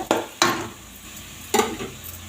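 Chilli powder and chicken masala sauté on a low flame for an eggplant and potato gravy, with a soft sizzle broken by three sharp scrapes of a spoon against the pan, close and without talking.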